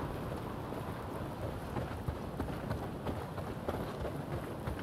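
Heavy rain in the video game Days Gone, a dense, steady downpour pattering close by with scattered louder drops and a low rumble underneath, no voices.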